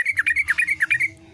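A straw-headed bulbul (trucuk) calls up close, pouring out a rapid run of about ten bubbly, rising and falling whistled notes before going quiet.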